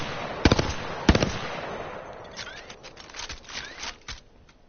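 A 3-round burst weapon in the video game Apex Legends fires two loud, crisp bursts of rapid shots in close succession, followed by lighter metallic clicks and rattles from the gun's handling.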